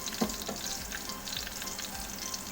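Pork frying in a pan for Bicol Express gives a soft, steady sizzle with faint crackles and a few light pops, fairly quiet and without any talking.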